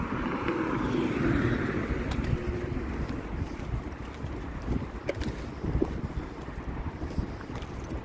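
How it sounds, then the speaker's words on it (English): Strong wind buffeting the microphone on a street sidewalk in El Monte beside parked cars, a loud constant roar with low rumbling gusts and no talking. "It is kind of windy."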